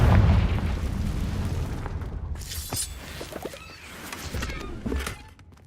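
A Confringo fire-spell blast erupts in Hogwarts Legacy with a loud opening boom, then crackling, shattering debris and smaller bursts trail off over several seconds.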